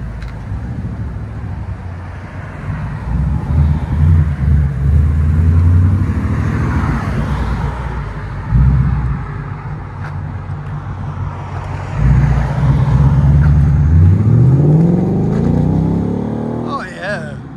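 A 2017 Ford Mustang GT with a 5.0L V8 and a Magnaflow axle-back exhaust rumbles at a loud, close idle and is blipped through several revs, ending in a rising pull. Voices are heard faintly in the background.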